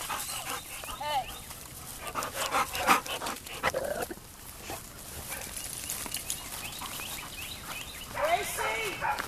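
Off-leash dogs running and panting outdoors, moving about amid rustling and scattered barks and yelps, with a person speaking intermittently over the activity.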